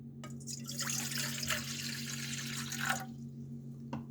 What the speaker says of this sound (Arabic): انا عندي بولة عميقة، هنزل فيها بشوية مية